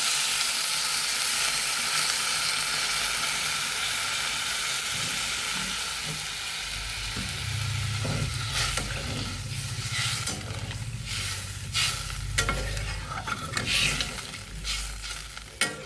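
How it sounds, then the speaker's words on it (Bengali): Water splashes into a pan of spicy vegetarian soybean curry, stirring up a loud, continuous sizzle and hiss that softens into bubbling with scraping stirs, all close and without talk. "তো এবার আমি একটু পরিমাণ মতো জল দিয়ে দেব"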